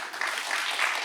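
An audience at a public talk on flood and coastal submersion risk applauding, a short dense burst of many hands clapping at steady loudness with no speech over it.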